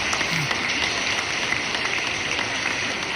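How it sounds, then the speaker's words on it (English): An audience at a VR/AR Association chapter event applauds for the chapter advisors, a dense, steady wash of clapping that holds evenly throughout, heard at some distance. "a big round of applause for for all of our advisors that helped this chapter go."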